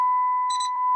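A steady electronic warning chime sounds inside a 6.7 Cummins diesel truck, a continuous tone with a brighter ding layered over it partway through, close and clear with no talking.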